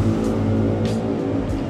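A motorcycle engine rumbles steadily nearby and rises in pitch as it passes, with a few short revving surges.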